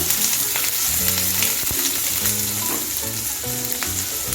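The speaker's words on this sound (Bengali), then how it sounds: "আদাটাকে কিছুক্ষণ একটু ভেজে নিচ্ছি" Ginger sizzling and frying in a pan over low heat, a steady close crackle with occasional stirring clinks and scrapes throughout.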